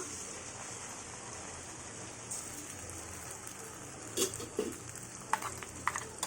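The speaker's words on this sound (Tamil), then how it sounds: "இதை கொஞ்சம் லைட்டாக கொஞ்சம் ஒரு ஒரே ஒரு நிமிஷம் வதக்கிக்கலாம்" Garlic and freshly ground roasted masala sauté in a pan for a Tamil garlic kuzhambu, making a continuous close sizzle with a few brief stirring scrapes near the end.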